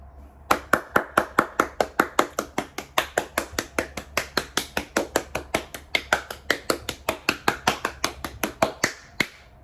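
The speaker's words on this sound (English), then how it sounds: "round of applause for those demographics" Steady, evenly spaced hand claps, around three dozen sharp and close in a regular rhythm, with no other sounds around them.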